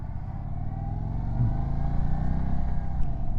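A 2025 Indian Sport Chief RT motorcycle pulls away from a light, its engine a low, steady rumble that builds gradually as it accelerates through the whole stretch, heard close from the rider's position with no talk.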